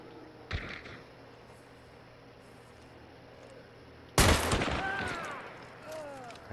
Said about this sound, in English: I blasted him with a shotgun